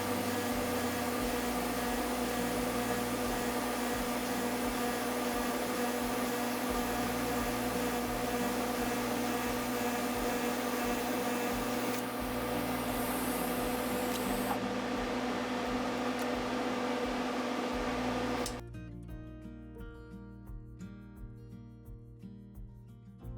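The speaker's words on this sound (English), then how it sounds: "Here I'm just TIG welding the corners." TIG welding the corners of a steel tube cart made from 2x2 tube gives a steady electric hiss and hum that runs for many seconds, then cuts off into quieter background noise.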